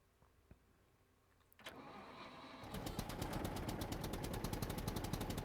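A tractor engine in the survival game SCUM starts up after a quiet stretch with a faint click, then settles into a loud, steady rumbling run with a rapid regular pulse, no talking over it.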